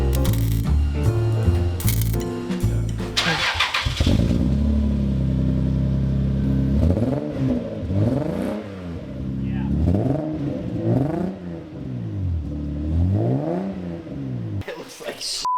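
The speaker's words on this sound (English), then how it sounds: "it sounds like a shit exhaust" Lexus SC300 fitted with a homemade exhaust, revved repeatedly up and down close by, its rough, raspy note rising and falling in a series of swells, with people talking briefly at the start.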